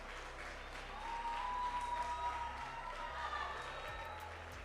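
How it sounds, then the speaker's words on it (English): A school audience at a robotics challenge gives sponsors a final round of applause, a soft, fairly distant patter of clapping that swells briefly and then settles into a steady wash. "Let's give them the final round of applause."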